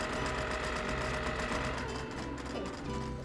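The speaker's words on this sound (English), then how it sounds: "I take the pins out as I sew, and I just go slow and move it along." A sewing machine runs steadily for several seconds, stitching curved quilt fabric pieces together, with no talking.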